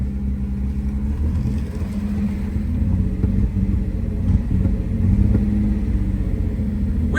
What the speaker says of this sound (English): Does still have a little bit of a high idle.